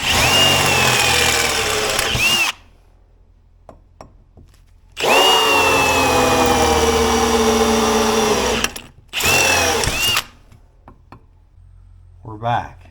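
A power drill fitted with a sharper bit whines in three sustained bursts, loud and close, with quiet gaps and small knocks between runs and a voice briefly audible in the pauses.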